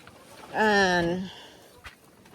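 A hen gives one drawn-out, tonal clucking call close by, lasting under a second, followed by a faint scuff in quiet outdoor surroundings.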